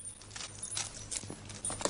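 Horse hooves clip-clop in a steady, uneven rhythm, fairly close, with no talking.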